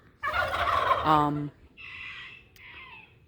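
Turkeys gobble close by in a loud rippling burst, followed by softer, higher calls from the flock.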